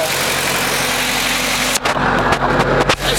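A farm tractor's engine pulling a Kinze planter idles steadily at close range, a constant low rumble broken by a few brief knocks and thumps near the end; no one speaks.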